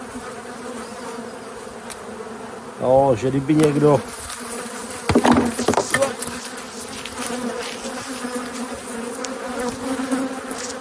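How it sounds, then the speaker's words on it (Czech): Honey bees buzzing around an open hive during a brood and stores check, a steady close hum under the whole stretch, with two brief bursts of nearby talk and some handling noise. "Krásný včely."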